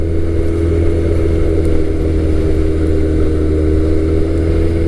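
A first-generation Suzuki Hayabusa motorcycle engine drones loudly and steadily, a close, sustained hum with deep low rumble and no voices over it.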